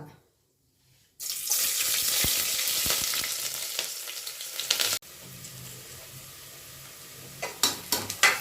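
Sliced onions hit hot oil in a pan for chicken biryani, a sudden loud sizzle after a moment of near silence that later drops to a softer fry, with a few clattering knocks near the end.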